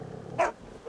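A dog barks in The Walking Dead video game, two short sharp barks spaced about half a second apart over a low background rumble.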